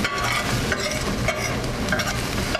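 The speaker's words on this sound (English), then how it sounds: "our garlic and onion is doing just great right over here" Garlic and onion sautéing in a pan on a cooking show, a loud, dense sizzle with intermittent stirring scrapes, close and steady with no speech.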